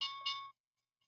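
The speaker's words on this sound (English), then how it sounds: "that's a really loud bell" An alert bell from trading software, two loud, bright electronic ding tones in quick succession that then cut off into silence.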